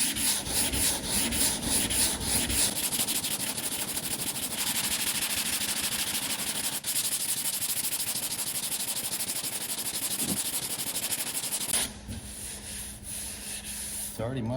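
Primer and filler being sanded on the bodywork of a 2018 BMW M3 during a repaint, a continuous loud rasping scrub that runs steadily for about twelve seconds before easing into a quieter, thinner rubbing.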